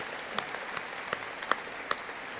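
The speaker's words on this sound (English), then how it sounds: "Please join me in giving them a round of applause" Audience applause for college inductees at a community college address, a diffuse wash of clapping heard from a distance with a few sharper claps standing out at intervals.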